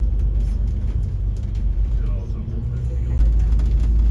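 Cars and double-decker buses climbing a narrow Hong Kong mountain road from Central toward Victoria Peak, heavy low engine rumble close by and steady throughout, with talking over the traffic.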